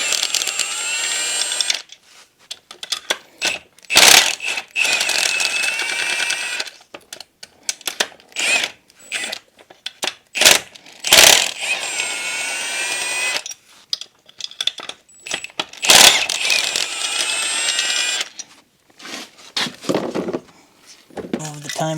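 Ratchet loosening the four main cylinder bolts on a Polaris Sportsman 500 ATV engine during a teardown: close, loud bursts of clicking that stop and start, with voice-like sounds in between.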